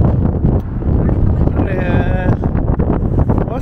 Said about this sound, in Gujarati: ઠંડી ને પવન છે પવન એટલે ગજબ નો પવન છે ભાઈ ઉડે જાય એવો પવન છે